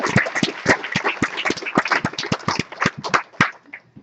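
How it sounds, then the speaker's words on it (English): Steady applause from a crowd, many sharp hand claps overlapping in a dense, lively rhythm that tapers slightly at the end. "Another round of applause, please."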